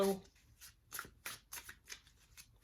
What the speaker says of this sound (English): I'll not look at the backs while I'm shuffling them